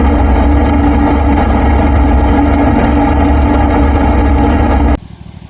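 A John Deere riding mower fitted with a Cub Cadet hood runs steadily on an off-road mud ride, its engine a loud, continuous low drone that cuts off abruptly near the end.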